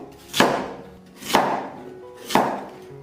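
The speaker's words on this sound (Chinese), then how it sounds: "再准备一根萝卜，给它切成滚刀块。" A knife chops a radish into chunks on a cutting board in a home kitchen: three evenly spaced, solid thuds about a second apart, close and clear with no talk.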